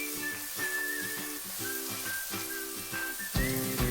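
Ginger garlic paste and four slit green chillies fry with onions in a pan for a spiced bird roast: a steady, close sizzle with a thin whistling tone above it and a brief burst of stirring near the end.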